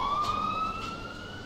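Ambulance siren in the Emergency 4 video game, a steady wailing tone sweeping slowly upward, loud and close, sounding alone without talk.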